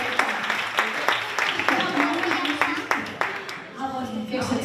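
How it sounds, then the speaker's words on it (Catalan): Clapping from an audience at a Carraixet festival show in Massanassa, 2016, rises in scattered bursts with voices talking and calling over it, then thins out toward the end. "I s'aplaudiment, per favor."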